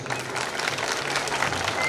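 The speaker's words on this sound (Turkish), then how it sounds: "özellikle kadınlarımıza sizden büyük bir alkış istiyoruz" Crowd applause at an outdoor lamb-shearing festival in Beytüşşebap, Turkey, a steady wash of clapping that holds at a moderate level for a couple of seconds, with no speech over it.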